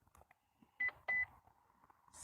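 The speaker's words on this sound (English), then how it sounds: "Something over here is beeping and I don't know what it is." Electronic beeping from an unidentified household device, two short clear beeps close by in a quiet room, with soft background rustling.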